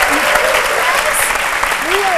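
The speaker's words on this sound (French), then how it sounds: "on l'aime et on l'applaudit trop fort" Loud, sustained applause from a studio audience on a French-language midday talk show, dense clapping with a few voices rising over it.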